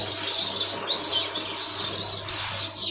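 Finches in an aviary chirp and tweet continuously, with many high, overlapping bird calls from several birds at once. The sound is close and fairly loud, with no talking.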